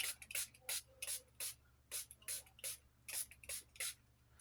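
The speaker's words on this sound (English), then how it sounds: "we're gonna spritz you with some water" Rapid series of short hissing spritzes of water from a spray bottle, about a dozen bursts in an uneven rhythm, close and fairly soft over a low hum.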